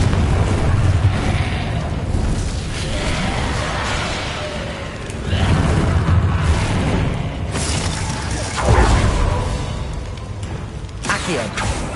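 Confringo fire spell blasting in Hogwarts Legacy, with repeated loud booming bursts and crackling debris over a dense, roaring battle bed, the impacts landing near and heavy.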